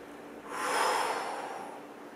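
A single slow breath in followed by a soft, airy exhale, close and quiet against a faint steady background hum.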